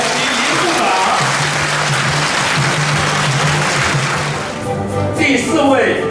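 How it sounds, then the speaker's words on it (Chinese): A crowd of guests gives sustained, dense applause to welcome the president and the transport minister as they arrive at a formal event. The clapping is loud and continuous and fades slightly near the end. "请与会贵宾同仁热烈掌声欢迎总统及林部长。"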